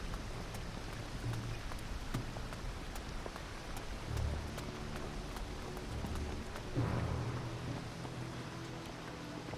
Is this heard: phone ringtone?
no